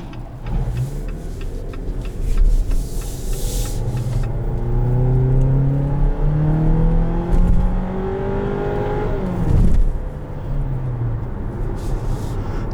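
A 2021 Jeep Compass Limited with a 2.4-liter engine accelerates hard through several gears, a throaty rising engine note with upshifts, heard steadily from inside the car with no talk.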